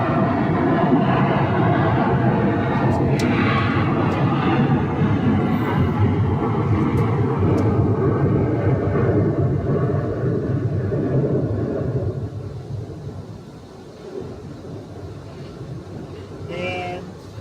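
An American Airlines jet departs Phoenix airport bound for Seattle, its broad engine rumble loud and steady at first, then easing and thinning as it pulls away, with faint talk over it.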